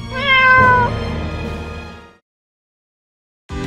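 Animated cats meow in a cartoon, one long drawn-out meow followed by a shorter one, loud and close, then a pause before another begins.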